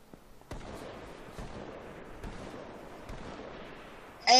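Several sharp gunshot bursts crack out at intervals over a busy, rumbling video game soundscape, with a louder burst of noise at the very end.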